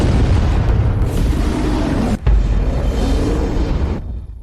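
An orbital cannon launches with a huge explosion, a sustained roaring boom with heavy low-end rumble that drops out briefly midway. It surges back, then cuts off sharply.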